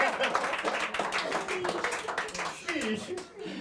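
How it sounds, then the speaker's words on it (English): Studio audience applauding on a comedy-style chat show, a fairly close patter of individual hands clapping with some uneven bursts, while a host's voice talks over the clapping and the clapping thins toward the end. "everybody, round of applause for the audience"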